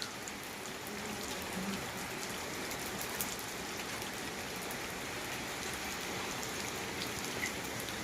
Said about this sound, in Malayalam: ഇപ്പോൾ എല്ലായിടത്തും മഴയാണ് മഴ